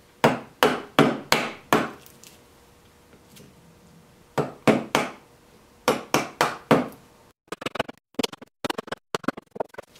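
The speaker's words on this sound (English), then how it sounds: "So I'm going to have to chisel away a little bit." Chisel strikes cutting into wood to seat a faceplate ring for a wood-turning bowl blank: several bursts of four or five sharp, loud knocks in quick succession, closing with a rapid flurry of lighter taps.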